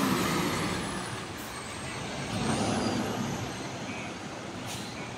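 A bus pulling away toward the rear parking area at Purabaya bus terminal in Surabaya in the evening, a steady broadband engine rumble and road noise that swells and fades, with a hiss like an air brake near the start.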